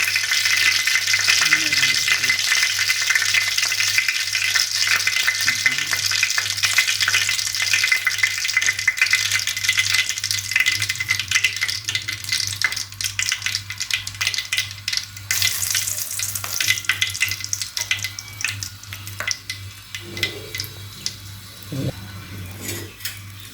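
Cinnamon, clove and onion fry in hot oil in a pan for mutton kuzhambu, giving a continuous bright sizzle with intermittent clatter of stirring near the pan.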